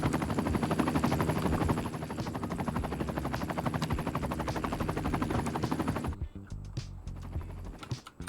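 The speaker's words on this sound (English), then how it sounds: "Guys, the helicopters are back." Helicopters fly over a city in Cities: Skylines II, a loud, continuous rapid rotor chop that runs for about six seconds before dropping away to quieter scattered thumps and taps.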